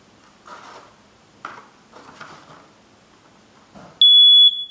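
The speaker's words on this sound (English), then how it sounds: "once you have a moisture, the smoke detector will alarm you" A household smoke detector used as a moisture sensor sounds one loud, piercing electronic beep near the end, after soft handling noises.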